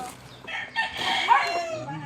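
Chickens and a rooster in rural Unisan. A single moderately loud crow rises and falls through the middle of the short stretch, with faint clucking and background noise around it.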